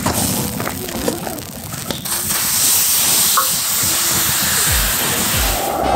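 Cheese grills on a cast-iron pot lid beside pork belly at a campsite, giving a steady, close sizzling hiss with faint scrapes and clatter.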